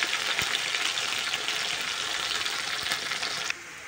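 Potatoes with turmeric fry in hot oil, giving a loud, steady crackling sizzle with occasional stirring knocks that drops suddenly quieter near the end, no talking.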